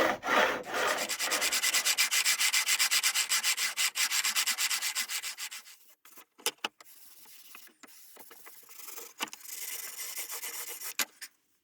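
A metal file rasps steadily along the fret ends of a carved oak guitar, fast rhythmic back-and-forth strokes up close for several seconds, then pauses and a few scattered short scrapes before another brief run of filing.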